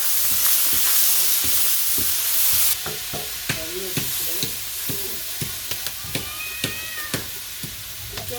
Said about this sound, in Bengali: মাছ পেঁয়াজ ভাজা হয়ে গেছে, আমি ভাপিয়ে রাখা কপিটি দিয়ে দিলাম।